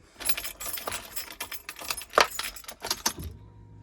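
Keys jangle as a key is pushed into the ignition of a 1995 Rover Mini, a run of bright metallic clinks and rattles lasting a few seconds, close by, with a sharper clack near the end and no talking.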